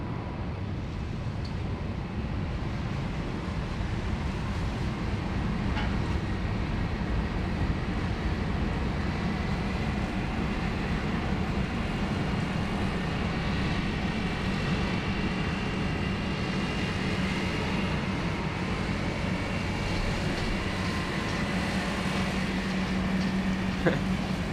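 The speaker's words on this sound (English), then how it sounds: "There goes Qantas 441 on a milk run to Melbourne." Qantas flight 441 jet departing Sydney for Melbourne, a steady distant low roar of engine noise holding evenly throughout with no voices.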